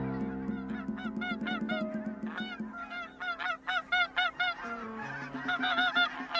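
Geese honking out in a rainwater basin wetland, a flock calling in quick repeated bursts that cluster and overlap, moderately near but fairly quiet, with brief gaps between runs of honks.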